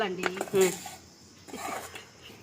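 Mango pickle stirred together with its tempering, heard as a spoon scraping and clinking against a metal vessel in a few short, soft bursts, close and fairly quiet.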